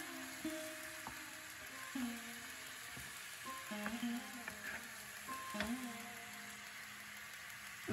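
Spices and fried potatoes sauté in a pan for a fish curry, a quiet continuous sizzle broken by several scraping strokes and clinks of a stirring spoon, close but faint.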